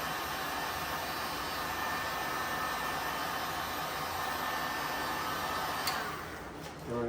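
A heat gun blows steadily while warming vinyl wrap on a Tesla front bumper, a continuous airy roar that holds for several seconds before dipping briefly near the end.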